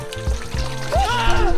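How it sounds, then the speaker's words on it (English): Pork deep frying in oil for kare kare, sputtering and popping in close, uneven bursts with a steady sizzle underneath, while voices talk nearby. "This is the time to deep fry. Prepare for war. Of that popping oil."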